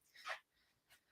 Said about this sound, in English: Sorry if you guys hear my dog barking.